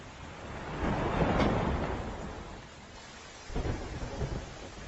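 Steady rain pours with a low rumble of thunder swelling and fading, then a second burst of heavier rain or thunder near the end, no voices.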